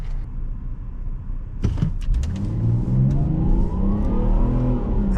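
A 2011 Volvo XC60 T6 AWD accelerating at half throttle, with a rising engine drone that builds steadily and stays loud from inside the car after a brief clunk.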